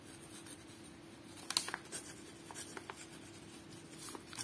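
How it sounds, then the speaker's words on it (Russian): An Indian fountain pen nib scratches across kraft wrapping paper in quiet, close strokes, with small scraping ticks over a faint background hum. "Просто написать что-то на крафтовой бумаге оберточной."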